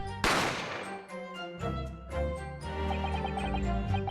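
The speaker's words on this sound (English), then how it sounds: "You heard the gunshot, you mean?" A single sharp gunshot from the video game The Great Ace Attorney cracks loudly and close, then rings out under ringing musical tones that carry on afterward.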